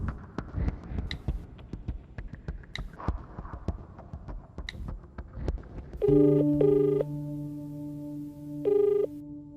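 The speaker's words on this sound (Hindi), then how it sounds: "मणि को कॉल करता हूं।" A mobile phone's electronic ring sounds in loud, pulsed tonal bursts after a stretch of softer, busy background noise, in a Hindi-dubbed South Indian film scene.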